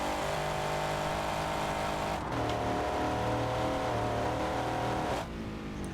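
A powerful custom-built car in BeamNG revs hard through the gears toward 8,000 rpm, its loud, sustained engine whine dropping in pitch at each upshift with a clear gear change partway through.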